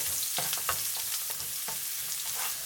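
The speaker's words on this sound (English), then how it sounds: "When the oil is hot, add the other half of the chopped garlic and the grated ginger. Stir from time to time." Chopped garlic and grated ginger sizzle in hot vegetable oil for stir-fried shrimp udon, a close, continuous hiss broken by several quick stirring scrapes at an uneven rhythm, with no voices.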